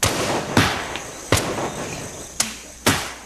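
Five sharp, loud gunshot-like cracks from period Spanish guns fire at irregular intervals, each a sudden burst with a short decaying tail.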